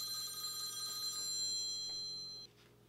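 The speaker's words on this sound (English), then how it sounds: "Now your phone ring." A telephone rings with a steady, bright electronic trill that stops abruptly near the end, fairly quiet and with no voices over it.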